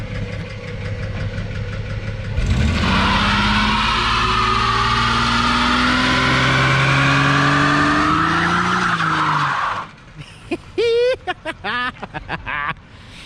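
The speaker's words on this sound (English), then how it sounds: "Let's see if it'll do a burnout." A Ford Mustang does a loud burnout, its engine roaring and rising in pitch as the tires squeal steadily for several seconds, then cutting off abruptly; short bursts of excited voices and chirps follow.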